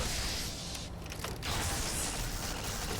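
Arc welder weapon firing in Fallout: New Vegas, a continuous harsh electric crackle and buzz holding steady at moderate loudness for the full three seconds, with no voices.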